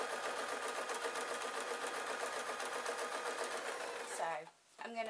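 An electric sewing machine runs steadily, stitching a knitting bag with bamboo handles in a continuous fast whir before stopping near the end, while someone talks over it.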